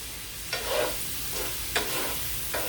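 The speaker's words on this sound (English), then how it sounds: "You're just gonna fry up your bacon" Bacon sizzles in a pan over moderate heat, a continuous close crackle broken by three scraping strokes of stirring.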